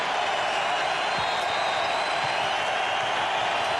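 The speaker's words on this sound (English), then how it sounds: "Rodney Rogers knocks down the 3. That ignites the Fleet Center crowd." A packed arena crowd at the Fleet Center roars in a steady, dense wall of cheering after a three-pointer at a 2002 NBA playoff game, the noise sustained throughout.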